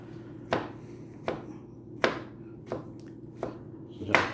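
A knife chopping mushrooms on a cutting board for Thai rice soup, six crisp, evenly spaced cuts at a steady, unhurried rhythm, close and clear over quiet background hum.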